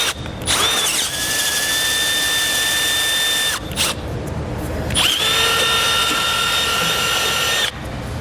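A power drill whines steadily at high speed, drilling a 13/32-inch hole in a 2012 Chevrolet Traverse for a Blue Ox base plate, stops briefly, then spins up again for another long run, loud and close.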